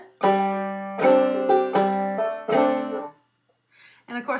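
A clawhammer banjo plays the B part of the old-time tune Cluck Old Hen, a few close, bright plucked-and-strummed phrases in a bouncing rhythm that stop briefly before a short restart.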